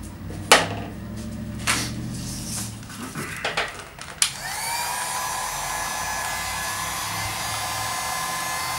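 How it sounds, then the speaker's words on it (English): Heat gun blowing hot air onto vinyl wrap film over a BMW F30 kidney grille, a steady broadband whoosh that starts after a few knocks and handling clicks and holds at constant level to the end. "you heat the film up and then you can stretch it around."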